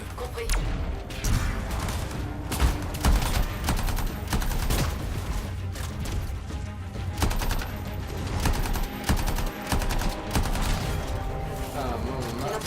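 Rapid gunfire from a four-round weapon with heavy recoil in the Anthem video game, dense bursts of shots crackling continuously through a co-op mission with game effects layered underneath.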